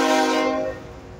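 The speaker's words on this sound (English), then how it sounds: "Wow, that's a loud horn." A Canadian Pacific AC 4400 locomotive sounds its horn nearby, a loud sustained multi-tone blast that fades and tapers off toward the end.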